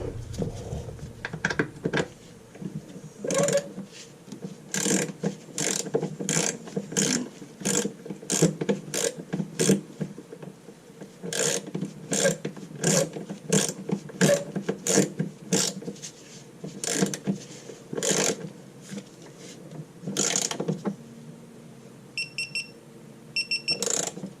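Torque wrench ratcheting while tightening an A/C line bolt on a 2014 Dodge Charger Pursuit with a leaking A/C system, rapid repeated clicking in bursts with short pauses, close and loud.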